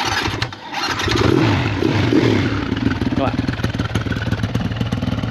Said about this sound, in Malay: Kalau ikut daripada segi bunyi dia, exhaust ni lepas.